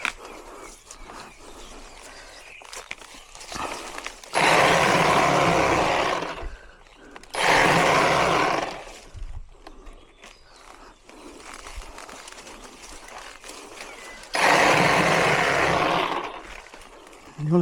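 A tea harvesting machine cutting leaves in a tea garden gives loud, broad motor roars in three bursts of about two to three seconds each, separated by quieter stretches of outdoor ambience.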